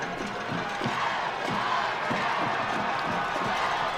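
A high school football crowd at a Mineola Yellowjackets regional championship game keeps up a dense, steady roar of cheering and yelling, with rhythmic stomps or claps running underneath.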